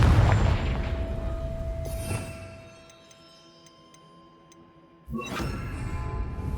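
The Confringo explosive spell goes off in Hogwarts Legacy with a deep boom that fades into a quiet ringing tail, followed by another sharp burst near the end.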